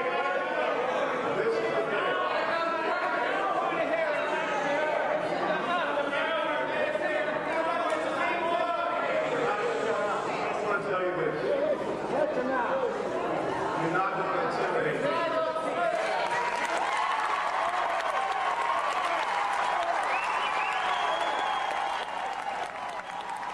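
Town hall meeting crowd held by a Florida Republican Congressman, with loud sustained clapping and a dense murmur of chatter and shouting voices throughout, steady and close.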